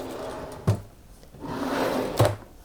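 A desk drawer in a home craft room holding ink supplies slides open and shut, giving two sharp knocks about a second and a half apart with a soft rolling rumble between them, close by.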